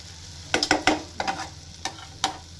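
Karonda vegetable cooking in a pan on a gas stove, with a soft steady sizzle under a few sharp stirring scrapes and clinks of the spoon against the pan, close by and with no talking.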